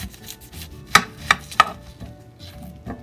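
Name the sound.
knife cutting the end off an onion on a board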